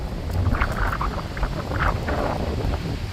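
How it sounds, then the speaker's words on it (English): Strong gusting wind ahead of a thunderstorm in Leetsdale, roaring steadily and buffeting the microphone at close range, with no talk. "Super windy"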